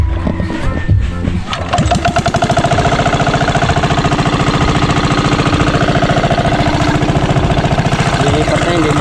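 A small motor engine on a farm runs close by with a loud, steady, rapid chugging idle after a brief rougher start.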